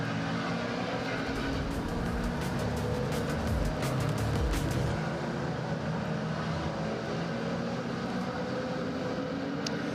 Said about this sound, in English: So the car's heading around the circuit, they're heading underneath the Warwick Bridge